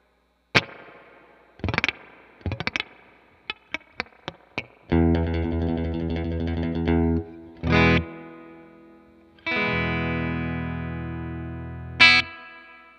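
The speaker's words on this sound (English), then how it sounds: "That drip sound? That is the best spring reverb I've ever heard." An electric guitar played through the spring reverb of a Fender Tone Master Twin amp. Sharp picked notes and sustained chords ring out, each followed by a splashy, dripping reverb tail, loud and close, with no talking.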